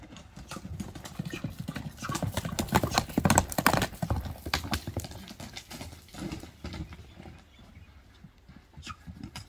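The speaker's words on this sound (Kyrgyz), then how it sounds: "Бул экинчи ат болду туугандар" Horse hooves clip-clopping at a horse market, a dense run of close, loud hoof strikes that swells in the middle and then thins out, with faint crowd noise behind.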